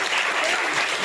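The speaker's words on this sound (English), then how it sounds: "can you give these guys a really big round of applause?" Audience applause for students at a tourism mural reveal showcase, a steady wash of clapping filling the whole short moment without a break.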